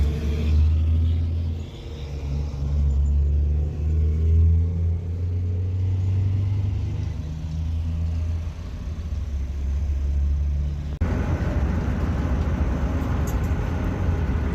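A 1980s-style VW Golf MK1 under restoration driving on the road in third and fourth gear, a steady low engine rumble and road drone throughout, shifting character near the end, with no talk.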